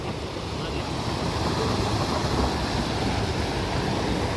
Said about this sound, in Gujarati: આ ઝરણું છે અહીંયા,